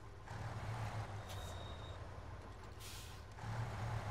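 A Scout ZikZ 5368 truck pulling a small trailer turns around in SnowRunner, its engine running low beneath two sharp bursts of air-brake hiss and a faint high beep.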